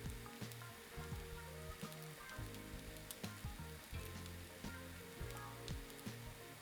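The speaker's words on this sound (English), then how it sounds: "You can hear it starting to sizzle." Bread croutons frying slowly in butter with garlic over low heat, a continuous soft sizzle with crackly pops and occasional stirring clatter, quiet and close, without talk.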